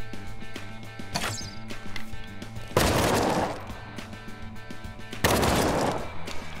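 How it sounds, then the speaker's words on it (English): Bursts of assault rifle gunfire in the shooter game The Front, two loud sustained volleys over a steady musical background, with scattered shots between them. "I think he's got an assault rifle."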